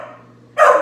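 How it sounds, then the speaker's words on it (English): A pet dog gives a single short, loud bark indoors, close by, after a brief stretch of quiet room hum. "Sorry for my dog barking."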